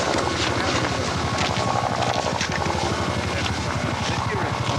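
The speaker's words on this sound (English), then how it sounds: "You hear a helicopter off in the distance there." A helicopter's rotor thumps steadily in the distance, a rapid rhythmic chopping under a constant wind-like rush.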